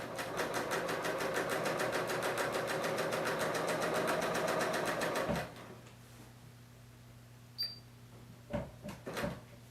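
A Bernina L890 serger runs steadily over a seam in a loud, fast, rattling stream for about five seconds, then stops, leaving a faint hum and a few light knocks and clicks.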